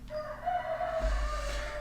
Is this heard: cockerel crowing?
yes